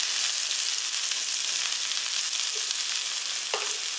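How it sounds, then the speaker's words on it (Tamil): Grated coconut, spring onions and curry leaves sauté in a pan for a Tamil dosa side dish. Loud, steady sizzling hiss fills the whole stretch, with one faint scrape of stirring near the end. "போட்டு கொஞ்சம் நல்லா வதக்கிடுங்க."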